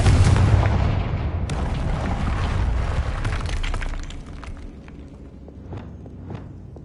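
A Confringo blasting spell goes off in Hogwarts Legacy on PS5, starting with a loud, deep blast that breaks into crackling, shattering debris and then fades into a lighter scatter of clicks and small impacts.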